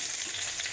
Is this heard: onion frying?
yes